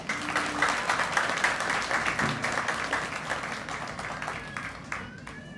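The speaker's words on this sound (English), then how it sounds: "You can keep applauding, that's awesome." A graduation audience applauds steadily, with dense, moderately loud clapping continuing for several seconds and easing slightly toward the end.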